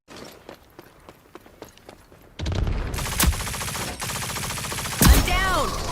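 Gunfire in a Rogue Company gunfight, with sparse quiet shots at first, then a loud burst of rapid automatic fire with sharp individual cracks and a brief swept tone.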